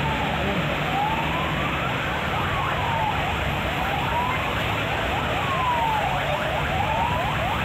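A fire truck siren wails at a junk shop fire in the Philippines, repeated rising and falling sweeps over a steady noisy background of engines and crowd.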